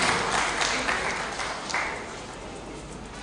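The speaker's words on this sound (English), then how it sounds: "Please, a round of applause for him." Audience applause at a university inaugural lecture as a department head is introduced, a steady broadband wash of many hands clapping, moderately loud and fairly distant, fading slightly toward the end.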